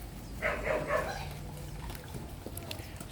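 A dog on a farm where native pigs are being fed gives a few quick barks close by, then a low hum of farmyard noise continues underneath.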